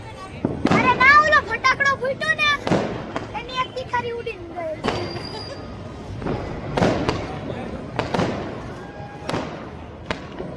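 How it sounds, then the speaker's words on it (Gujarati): Fireworks bursting in the evening sky during the Uttarayan kite festival: about eight sharp booms and cracks, some near and some farther off, spaced irregularly, while people talk in between. "હવે ફટાકડા ફોડવાનું શરૂ કર્યું છે"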